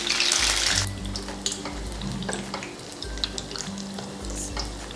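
Tomato bajji, a street-style snack, deep-fries in hot oil with a steady crackling sizzle, punctuated by soft clinks and stirring noises from a utensil at close range.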